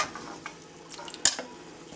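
Quiet sizzle of chicken biryani masala frying in a pan with scraping and stirring, plus a sharp metallic clink of a utensil against the pan.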